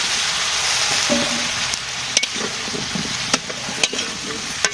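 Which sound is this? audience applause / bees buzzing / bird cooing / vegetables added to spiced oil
vegetables added to spiced oil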